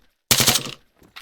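One sharp burst of rapid automatic gunfire in a King of the Hill shooter game on the Zaros map, loud and close, lasting about half a second, then a brief faint echo.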